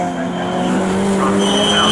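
Lotus Elise race cars at Snetterton circuit, engines droning loudly and rising in pitch as they head down a straight, with a race commentator talking over the sound.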